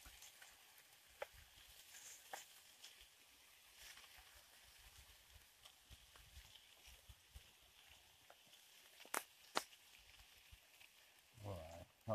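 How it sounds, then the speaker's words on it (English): Pike frying in a pan over a campfire while wild camping in Scotland, giving a quiet, continuous sizzle with occasional sharp crackles and clinks near the end. "stick it in the pan. Ready for that sizzle?"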